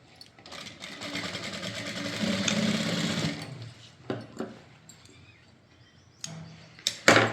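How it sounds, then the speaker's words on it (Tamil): Sewing machine stitching a blouse hook strip, one loud continuous run of about three seconds, then scattered clicks and handling knocks of fabric and machine. "கீழேயும் அதே மாதிரி இப்படி மடித்து தைச்சிடணும்."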